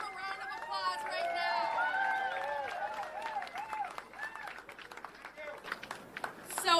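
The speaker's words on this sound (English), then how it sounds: "All right, everybody give them a round of applause right" A rally crowd applauds Social Security workers at a national day of action, with sustained clapping and cheering mixed with voices and chatter.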